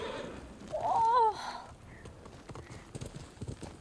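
A brief horse whinny rises over a faint backdrop in Ghost of Tsushima, followed by soft, scattered hoof clip-clops that grow a little more regular toward the end.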